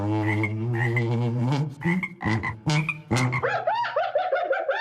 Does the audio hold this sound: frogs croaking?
yes